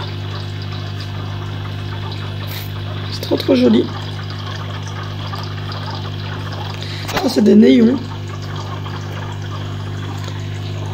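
An aquarium air pump hums steadily and fills the tank with small bubbles, a constant low drone running throughout while someone speaks briefly twice over it.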